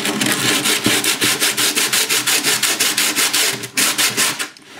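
Wood being sanded by hand with coarse 50 grit sandpaper makes rapid, rhythmic back-and-forth scratchy strokes, loud and close, about five per second with no pauses.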